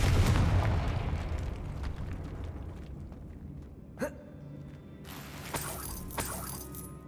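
A Confringo spell blast in the Hogwarts Legacy video game, a single sharp explosive burst that crackles and fades over a low rumbling background.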